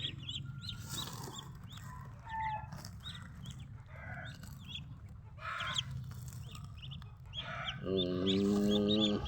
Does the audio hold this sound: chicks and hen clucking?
yes